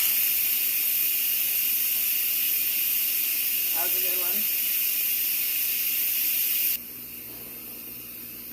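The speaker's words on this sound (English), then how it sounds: "hit the venting and let all the steam come out" Steam from an Instant Pot's quick-release valve vents in a loud, steady hiss that runs unbroken, with a short spoken comment partway through, then abruptly drops to a much quieter hiss near the end.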